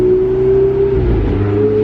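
Ferrari 488 GTB 3.9-litre twin-turbo V8 revving at high rpm, a steady loud close-up engine note with a slight pitch dip midway before climbing again, no talking.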